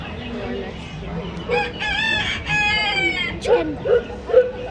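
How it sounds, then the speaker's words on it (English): A rooster crows loudly and close by with a long drawn-out call, then gives a few short clucking notes. "Chicken. Chicken. Some chicken."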